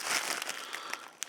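A plastic bag holding model railway scenery trees crinkles and rustles steadily up close, with a few sharper crackles toward the end.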